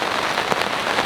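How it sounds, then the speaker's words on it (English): Steady rain falling outdoors at a French fishing lake, a dense, even hiss of drops on surfaces, close and continuous with no voices. "As you can hear, it is raining at the minute."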